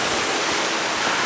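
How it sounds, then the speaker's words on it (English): Water pours steadily from a concrete waterfall at the Barbican Centre, a loud, continuous broadband rush with no breaks. "I love the waterfall thing"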